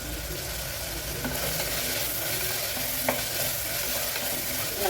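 Tomatoes and curry leaves sautéing in a pan for brinjal kadayal: a steady close sizzle with frequent stirring scrapes and a few sharp clinks, no voices.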